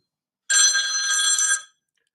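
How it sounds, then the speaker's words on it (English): Telephone rings for an incoming call on a radio talk show: a single electronic ring burst of about one second, bright and clear, after a short silence and followed by quiet. "Oh, we have a phone call."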